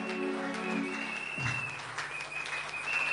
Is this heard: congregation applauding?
yes